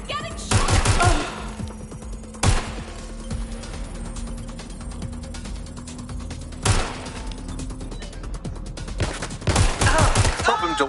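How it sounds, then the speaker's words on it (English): Gunfire in the video game Watch Dogs Legion: several loud, sharp bursts of shots break out at irregular intervals over a clattering mechanical bed and a low steady hum, with heavier volleys near the start and end. "They're shooting at us. I'm getting shot!"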